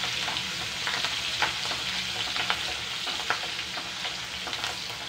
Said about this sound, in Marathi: आधी मिरची थोडीशी फोडणीवर परतून घेऊया